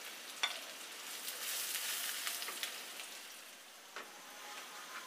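Chopped onion and garlic sizzle steadily in hot oil in a pan, a soft continuous hiss with occasional sharper crackles and pops, close and fairly quiet, with no voices.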